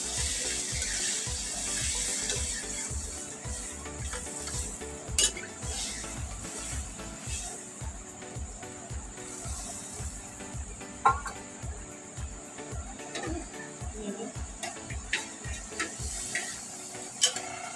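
Water poured into a pan of egg curry cooking on a stove, with steady stirring and spoon scrapes against the pan over a soft simmering sizzle, close and continuous.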